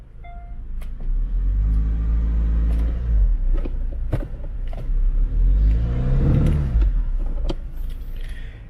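Hyundai Grandeur IG diesel engine held at high revs during a transmission stall test, a steady loud rumbling drone that swells twice with a brief dip between, plus a few small metallic clinks.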